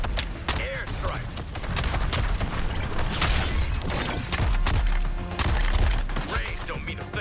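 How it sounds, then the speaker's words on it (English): Dense gunfire and repeated explosive bursts from an airstrike in the Suicide Squad video game, loud and near, with rapid volleys and booms layered over busy game noise and some talk. "Airstrike."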